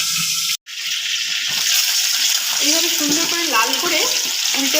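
A fish head fries in hot oil in a pan with a loud, continuous sizzle that cuts out for a moment near the start and then crackles steadily on.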